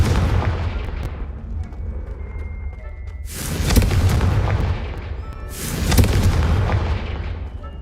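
Confringo fire spell explosions in a Hogwarts wizarding video game: two loud, deep booming blasts a couple of seconds apart, each bursting broadband then rumbling away over a continuous low background.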